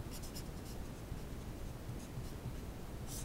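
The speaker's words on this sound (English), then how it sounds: "I'll just write that." Chalk or marker writing on a board during a physics lecture on an ideal gas and piston, heard as soft scratchy strokes over a steady room hiss with no talking.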